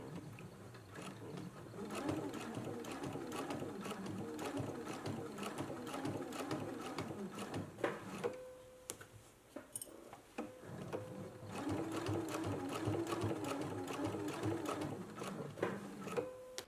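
A sewing machine runs in steady bursts while stitching the right-side placket of a McCall's M8449 sewing pattern, its rapid mechanical chatter continuous apart from a brief pause midway, close and fairly loud with no talking.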